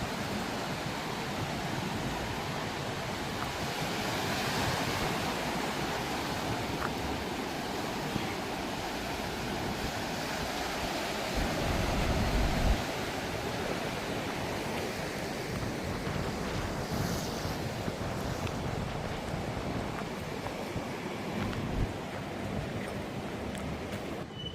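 Ocean surf along the Tuvalu coast, a broad continuous wash of breaking waves holding steady and fairly loud throughout, with one brief louder surge midway and no voices.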